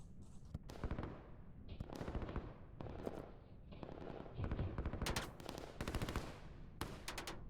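Artillery fire in the strategy game Line War, where artillery pounds ground infantry: dense bursts of rapid gunfire and explosions that rise and fall in clustered volleys throughout, busy and loud.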